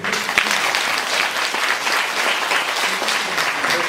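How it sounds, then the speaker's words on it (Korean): An audience claps after an author's lecture in Seoul, a dense, steady round of applause filling the whole four seconds with no voices over it. "좋은 강의 해주신 작가님께 다시 한번 감사의 박수 부탁드리겠습니다."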